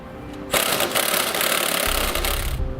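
An 18mm socket on a ratchet or impact tool loosens a bolt on a 2007 Jeep Liberty sway bar end link, giving a loud continuous mechanical whir that starts abruptly after a brief quiet and runs steadily to the end.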